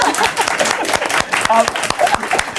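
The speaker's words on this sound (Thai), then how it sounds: "ขอเสียงปรบมือให้มินด้วยครับ" A small group gives scattered, sharp handclaps during an interview about succeeding at selling on eBay. The claps are close and uneven, with people talking over and between them.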